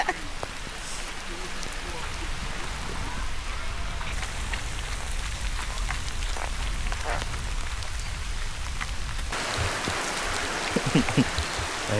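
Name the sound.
rain falling on campsite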